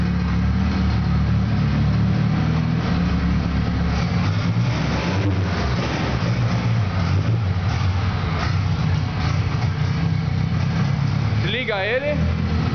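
Up close, the engine of a turbocharged Chevette drones on steadily at idle for the whole stretch, with slight swells in pitch. Someone speaks briefly near the end.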